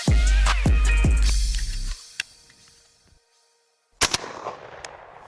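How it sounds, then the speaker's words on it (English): Shotguns fired while shooting skeet on a farm: several loud blasts in quick succession with sharp echoes, then a pause and another shot. "about to go shoot some skeet"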